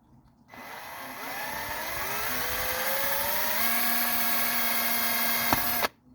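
An electric drill bores into a piece of bone for a homemade mandolin machine head, a steady whine that climbs gradually in pitch for about five seconds before stopping abruptly, loud and close with no talking.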